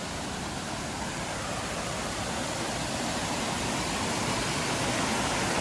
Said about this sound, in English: this is actually the water from Font des Prat. We just heard it coming down the valley there.